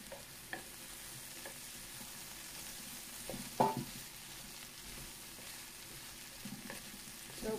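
Beef shank stew being stirred in a pot over the heat, with a soft, steady sizzle and occasional scraping clinks of the spoon, faint and close, with no talking.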